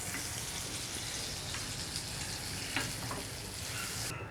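A teaspoon of butter goes into deep golden caramel sauce in a pan, giving a continuous close hissing sizzle with a single faint click midway, then the bright hiss drops away at the end.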